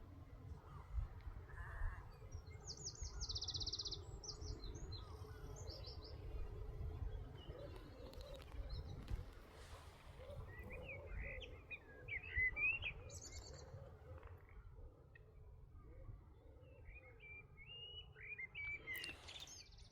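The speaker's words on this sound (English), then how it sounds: "to just listen to the blackbirds sing." Blackbirds sing in short, bright phrases at a distance, spaced out over a low steady rumble of outdoor background noise.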